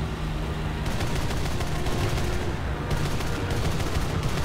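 Cannon fire from a He219-A7 fighter aimed at a bomber in War Thunder, a dense continuous stream of rapid shots over steady engine drone, dense and unbroken across the whole stretch.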